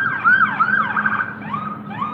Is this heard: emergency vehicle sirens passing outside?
yes